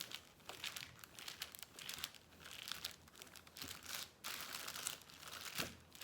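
Plastic bag crinkling and rustling close by, quiet and continuous with irregular crackly bursts.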